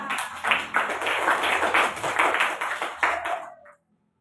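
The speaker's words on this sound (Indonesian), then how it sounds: "Kasih aplaus ya kita." A classroom group applauds, dense hand claps rising together for about three and a half seconds at close range, then stopping abruptly into silence, with no talking.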